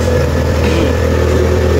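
Motorcycle engine labors loudly and steadily while climbing a steep uphill road carrying a heavy rider, a close, constant low drone with no pauses.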